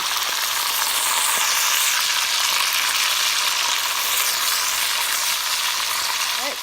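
Ground beef for keto chili sizzles steadily in a pan, a dense continuous frying crackle that stays loud and even from start to finish with no talk over it.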